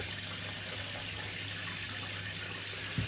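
Tap water runs steadily at a sink while shaving gear is being readied, a continuous hiss-like wash holding even throughout with a faint knock near the end and no voices.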